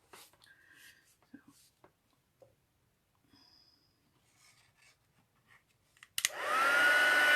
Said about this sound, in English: the heat tool has two heat settings, but I tend to just use the one